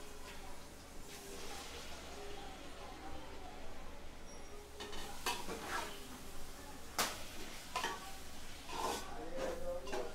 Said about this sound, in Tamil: இஞ்சி பூண்டோட பச்சை வாசனை போகிற வரைக்கும் நம்ம வதக்கிக்கலாம்